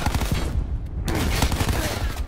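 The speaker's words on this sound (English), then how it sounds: "Firing sensor dart." A sensor dart fired in Call of Duty Black Ops 4, heard amid a dense burst of game gunfire and booms, with a voice speaking briefly over the action.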